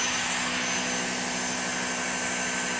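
A Dyson DC59 cordless vacuum cleaner runs at a steady, loud whine with a constant high-pitched motor tone, close by and unbroken for the whole stretch, with no voices over it.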